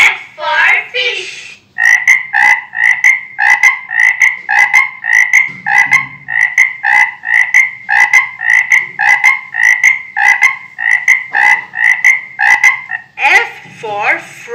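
Repeated electronic frog croaks from a children's learning pen toy, a fast regular series of bright croaking calls, loud and close, with short voice snippets at the start and end.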